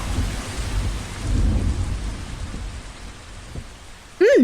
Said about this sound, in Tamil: சடனாக மழை வந்துடுச்சு.